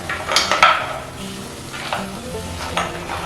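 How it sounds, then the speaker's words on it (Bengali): Potatoes and bori stir-fried with spices in a pan, a steady sizzle broken by several scraping strokes of a spatula against the pan, close and alone without talk. "আর এইভাবে প্রায় 2 মিনিটের মতন নাড়াচাড়া করে নেবো মশলার সঙ্গে, যাতে মশলাগুলোর সঙ্গে আলু ও বড়িগুলো একটু ভাজা ভাজা হয়ে যায়"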